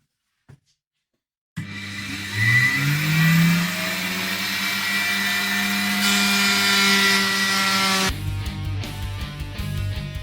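A router spins up and shapes a wooden guitar body in a workshop, with a loud motor whine rising in pitch and holding steady, followed by rougher cutting noise near the end, close and without talk.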